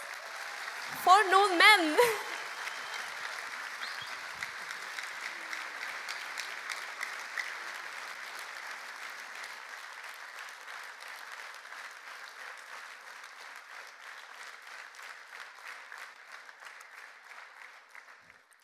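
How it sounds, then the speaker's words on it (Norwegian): Audience applause at a Christmas concert, ACTA Julekonsert 2016, following a short spoken phrase, a long, even patter of many hands that carries on steadily and gradually softens toward the end. "jeg tenker at vi gir dem en stor applaus"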